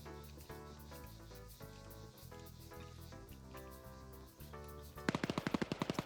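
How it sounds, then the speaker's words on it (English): Rapid machine gun fire in a video game match sounds as a fast burst of evenly spaced shots near the end, cutting in over steady electronic background music. "Ooh, Swallow with that MG."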